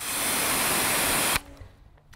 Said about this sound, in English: I spray them out every single time in between wheels like this